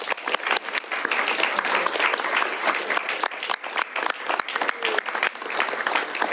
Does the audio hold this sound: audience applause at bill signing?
yes